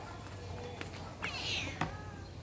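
A domestic cat being picked up indoors for deworming gives a couple of brief, faint meows amid quiet room noise.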